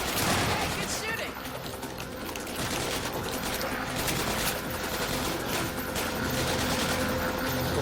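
Dense gunfire fills a Half-Life 2 Episode 1 battle, rapid sharp shots blending into a busy, noisy wash of combat sounds that carries on throughout.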